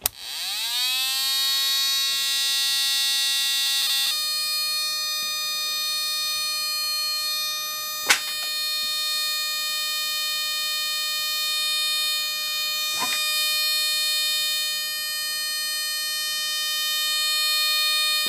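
A beeper circuit running on 55-60 volt DC gives a loud, continuous high-pitched electronic tone at 300 Hz or higher, stepping up in pitch after a few seconds, with two brief clicks partway through.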